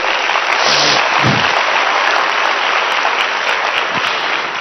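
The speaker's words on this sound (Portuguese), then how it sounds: "Então dê um aplauso a Jesus que vocês entenderam." Church congregation applauding during a sermon, a dense, steady wash of clapping that fills the room for the whole span, with a few brief voices and shouts rising through it.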